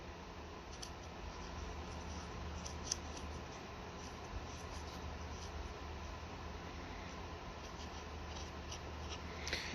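A pen scratches across dry bay leaves, drawn from stem to tip in short rasping strokes with small scratchy clicks, set against a constant low background hum.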